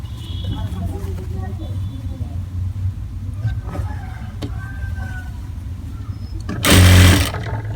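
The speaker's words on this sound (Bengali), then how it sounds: "গাইস দেখেন সে কীভাবে সেলাই করে, কীভাবে কাপড়টা ধরতে হয় দেখেন।" A tailor runs a sewing machine over cloth, its motor whirring steadily in the background under ongoing talk, with a brief loud burst near the end.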